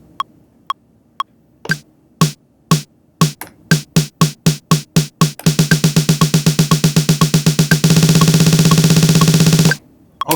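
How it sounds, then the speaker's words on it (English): A snare drum buildup played in Ableton Live with a Push controller opens with four metronome beeps, then snare hits accelerate from spaced strikes to quick rolls and a dense, rapid roll before stopping abruptly. "so there it is, a snare drum buildup"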